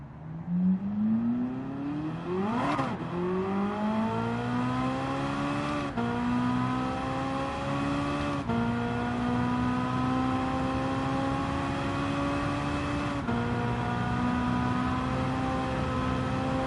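Engine of a car driving a lap in a racing video game, a steady high whine holding near-constant pitch for most of the run, with a brief rev dip and recovery near the start and a few short shift-like breaks.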